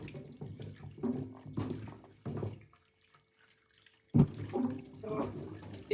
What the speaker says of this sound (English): So this is me rinsing this with running water, because cleanliness is of utmost importance in the kitchen.